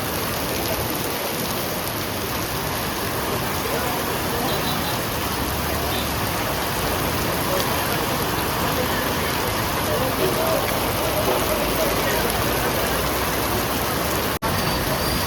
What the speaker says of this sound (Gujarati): વરસાદ તો બંધ થવાનું નામ લેતો નહીં